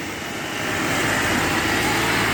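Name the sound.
vehicle arriving on road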